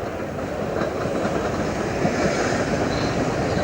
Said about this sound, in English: the train's pulling into a station now.